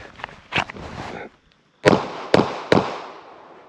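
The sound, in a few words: three pistol shots at USPSA target and steel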